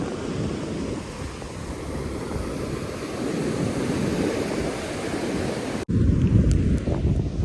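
Sea waves wash steadily onto the beach at Gokarna, a continuous surf roar mixed with heavy wind buffeting the microphone, louder and gustier near the end.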